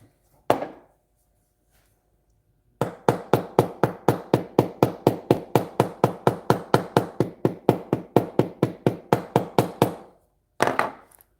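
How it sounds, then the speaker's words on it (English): Ball end of a chasing hammer riveting wire through a stone, tapping out a long, steady run of about thirty sharp, close metallic strikes, with a single blow before and another after. "And she's using the ball end of a chasing hammer."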